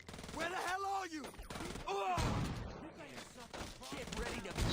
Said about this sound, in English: Shotgun, best way.